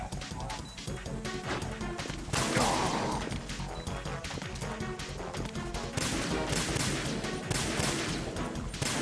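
Gunfire and impacts in the Metal Gear Solid 2 video game, dense and clattering over a constant loud game soundtrack, with crashing bursts throughout.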